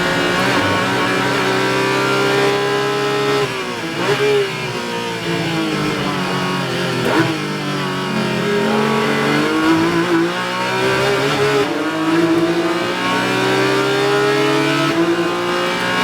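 Porsche GT4 race car engine at VIR screaming at high revs, pitch climbing and dropping through gear changes as it accelerates, loud and steady throughout with no talk over it.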